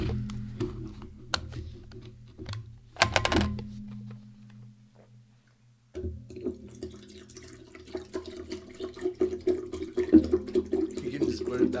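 Water is poured from a container into a glass at a table, a few short trickles and splashes close by between quiet gaps, with people talking.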